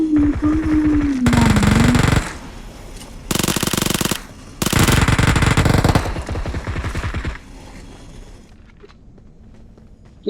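Automatic M4 rifle fire in a video game, in long loud sustained bursts separated by short pauses, ending in quieter ambient game sound.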